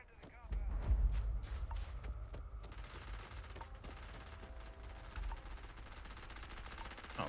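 Rapid bursts of gunfire at a shooting range in the video game Starfield, a dense rattling volley that settles into a steady background crackle, heard fairly faint under voices talking.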